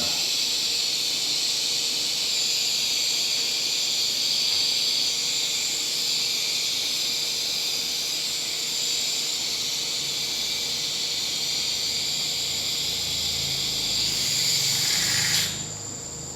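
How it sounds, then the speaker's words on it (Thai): Old brake fluid is sucked out of a Harley-Davidson's Brembo M4 brake caliper, producing a loud, steady, close hiss that runs unbroken for about fifteen seconds before cutting off abruptly near the end. "นี่เราก็จะมาดูดน้ำมันเบรกที่ อันเก่ากันนะครับ"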